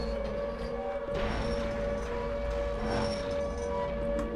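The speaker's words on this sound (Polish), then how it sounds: "Syreny, znajome syreny." A steady, droning video-game siren tone hangs over a low rumbling background, with faint rising whooshes layered in; no talking.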